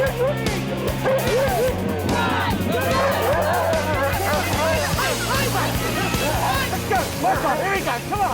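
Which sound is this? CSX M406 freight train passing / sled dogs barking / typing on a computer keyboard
sled dogs barking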